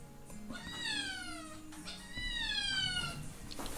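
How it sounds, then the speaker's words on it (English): A cat in the background of a room gives two drawn-out meows in quick succession, moderately loud and alone, with a faint thump at the end. "If you can hear my cat in the background"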